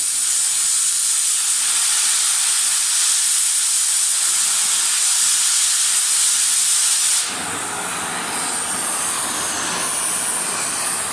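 An oxygen cutting torch hisses steadily and loudly as it cuts through metal. The harsh, continuous jet noise shifts abruptly to a slightly lower, rougher hiss partway through.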